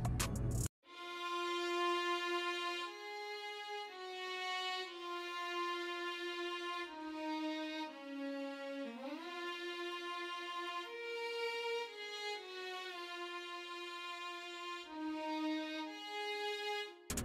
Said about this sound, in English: we got a string from Contact, which sounds like this.